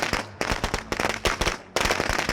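Firecrackers burst in the video game State of Decay 2, a rapid series of sharp loud cracks and pops crowding over a couple of seconds, with a brief lull before more erupt.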